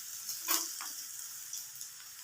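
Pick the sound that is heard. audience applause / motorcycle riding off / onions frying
onions frying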